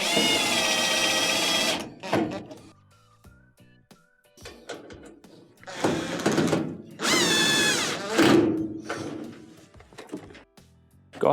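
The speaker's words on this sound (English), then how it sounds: "put it in by hand before you start drilling" Power drill driving screws into the drum baffle of a GE dryer, several loud bursts of whirring motor separated by pauses and small clanks, close up with no talking.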